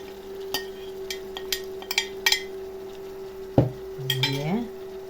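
Metal utensils clink and scrape against a pan in scattered strokes while chopped chicken liver and onion fry, over a faint steady hum, with a soft sizzle of frying underneath.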